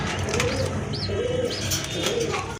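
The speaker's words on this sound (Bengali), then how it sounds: "বাম পাশের এটা হচ্ছে মাদি কবুতর, ডান পাশেরটা কিন্তু নর কবুতর" A pair of pigeons, one female and one male, coo in low, repeated rounded calls over a steady bed of background noise, with faint chirps higher up.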